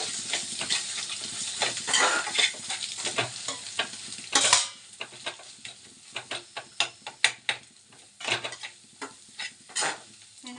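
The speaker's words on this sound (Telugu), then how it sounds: "కొంచెం ధనియాల పొడి లైట్గా గరం మసాలా ఇవన్నీ కలుపుకొని" A spatula stirs coriander powder and garam masala into a pan of egg rice, irregular scraping strokes over a soft sizzle, close and fairly quiet, with a brief louder burst partway through and no talking.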